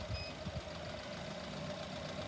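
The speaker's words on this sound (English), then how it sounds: "We are idling." A Honda car engine idles steadily nearby, a continuous even hum with a low rumble and no revving, heard alone without talk.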